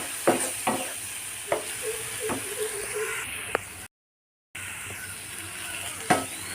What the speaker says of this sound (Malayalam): തക്കാളിയുടെ പച്ചമണം മാറുന്നത് വരെ നന്നായിട്ടൊന്ന് വഴറ്റിയെടുക്കാം